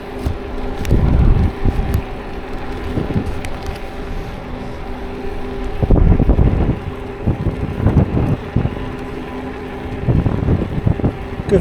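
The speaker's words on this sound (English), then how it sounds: "Hopefully you can hear me above the wind." Outdoors, gusts of wind buffet the microphone with uneven, close, low rumbling bursts that rise and fall over about twelve seconds, with no voice heard.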